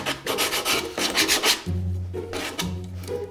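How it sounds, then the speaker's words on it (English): Hand sanding on a simple wooden sailboat to knock off splinters, quick rhythmic rasping strokes in short bursts, close up, with a low hum under the later strokes. "sand it a little bit"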